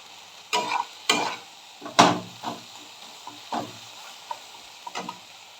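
Spice masala, with a pinch of sugar added, stirred and sautéed in a pan for a duck egg omelette curry: a handful of separate scraping stirs with a faint sizzle between them, close and moderately loud, no talking.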